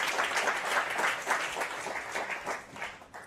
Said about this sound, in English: So let's give our judges a round of applause.